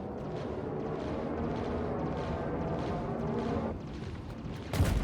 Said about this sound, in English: Suddenly, a huge explosion.